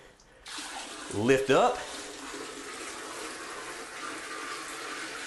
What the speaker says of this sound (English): I've got a bucket of water with me, and just like the old-timey toilets, we're going to pour it,